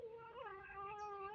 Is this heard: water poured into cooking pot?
no